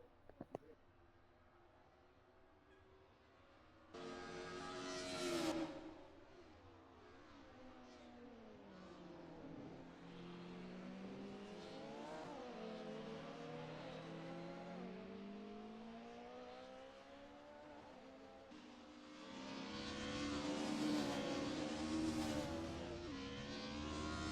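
An AMG 190E with a 2.3 liter 4-cylinder engine in a racing game holds a steady, droning note that rises and falls through gear changes, then swells louder near the end.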